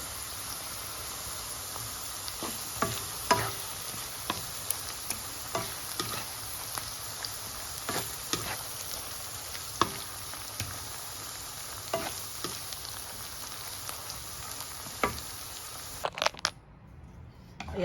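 Chicken frying in a pan for spaghetti sauce, a steady sizzle under frequent sharp clinks and scrapes of a utensil stirring against the pan, close and busy, ending abruptly in near silence; no one speaks.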